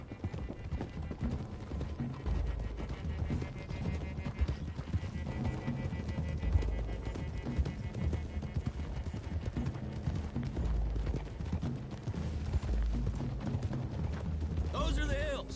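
Rapid hoofbeats of galloping horses in Red Dead Redemption 2 pound steadily under dense music and rumbling game action, with an occasional whinny rising near the end.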